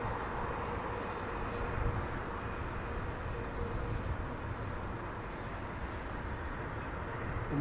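Broad steady aircraft engine rumble from an Air Italia Boeing Dreamliner at Heathrow Airport, holding at a fairly constant moderate level with no talk.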